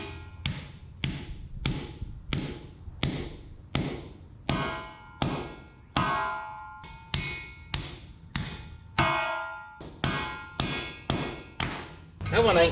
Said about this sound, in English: A few more swing of the hammers and they're all in